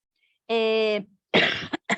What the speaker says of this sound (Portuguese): Perdão, gente, que eu estou com uma tosse faz uns 2 meses e não melhora direito